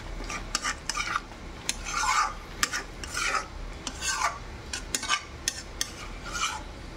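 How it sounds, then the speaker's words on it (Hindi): Butter being stirred into butter paneer in a pan, heard as repeated scraping and swishing strokes of a spoon at an irregular rhythm, close and moderately loud, with no talking. "अभी थोड़ा सा जो बटर है वो डाल दिया, डाल के मिक्स कर दूंगी।"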